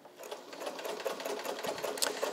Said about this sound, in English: And I'll do sort of a medium-long ZigZag here.